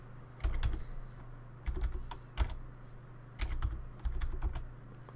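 Close, clicky bursts of typing on a computer keyboard come in short runs of keystrokes separated by brief pauses, over a low steady hum.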